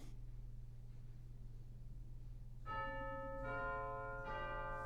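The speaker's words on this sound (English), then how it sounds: "Lovely chimes, yeah." Chimes on a 1928 E.M. Skinner pipe organ ring out in two bright, bell-like strikes, the second following shortly after the first. Both tones sustain over a steady low drone.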